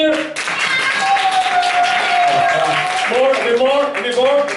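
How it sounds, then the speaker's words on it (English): A comedy show audience in Berlin claps hands continuously, a thick crowd applause running under a loud voice speaking throughout. "Let's start clapping your hands like if there is 200 people in here."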